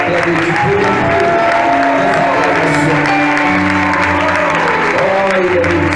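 A church congregation applauds and cheers God in a continuous, loud wash of clapping and voices, with singing or musical tones woven underneath throughout.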